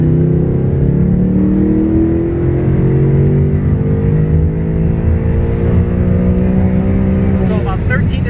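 A Ford Mustang with a Coyote V8 engine revs at wide open throttle toward about 7,500 RPM, a loud, steady, rising engine drone that climbs in pitch and holds throughout.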